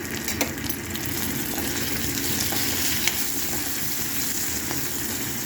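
Curry leaves dropped into hot oil with frying okra give a steady, loud, close sizzle with faint crackles and stirring scrapes throughout.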